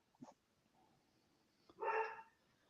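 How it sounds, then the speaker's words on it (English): A dog barks in the background, a short yip followed by a louder bark, faint and distant in an otherwise quiet room. "You can hear that dog, I bet."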